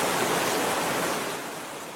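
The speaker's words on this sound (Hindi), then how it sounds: "लेकिन तभी बारिश भी आती है" Rain in a Hindi cartoon love story pours down as a steady, dense hiss, loud and even throughout and easing slightly toward the end, with no voices.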